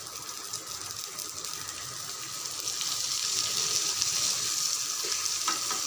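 Oil sizzling steadily in a pan as fish fries, a dense crackling hiss that swells and grows louder partway through, close by with no talk.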